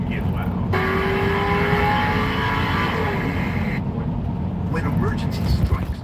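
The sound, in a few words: car with open exhaust revving loudly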